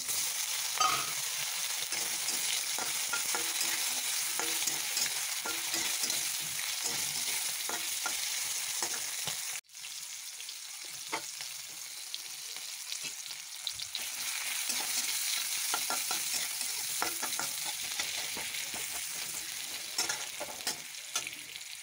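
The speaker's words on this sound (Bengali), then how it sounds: "শুকনা মাছটা নুন হলুদ মেখে রেখেছিলাম, এখন হালকা করে ভেজে নেব।" Salted, turmeric-rubbed dried fish frying in hot mustard oil in a wok, a loud continuous sizzle and crackle with occasional stirring scrapes, close up, with a brief dip partway through.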